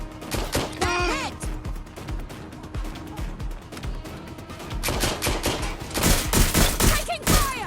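Rapid gunfire bursts from a Watch Dogs: Legion firefight crackle in dense, overlapping volleys, swelling loudest near the end, with shouted voices mixed in.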